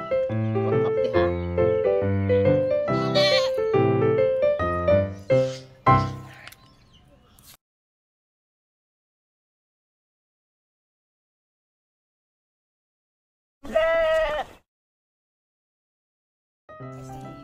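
A goat with diarrhea bleats in a farm setting: a run of wavering, harmonic calls at first, then silence, followed by one short bleat and the start of another.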